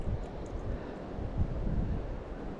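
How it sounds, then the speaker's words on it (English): Wind blowing outdoors on a day trip to South Cumberland, low rumbling gusts buffeting the microphone in uneven surges, close and steady, with no voices. "The wind has definitely picked up since this morning"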